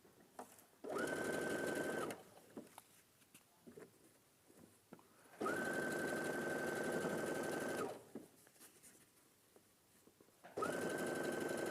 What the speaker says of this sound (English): And I'm going to sew this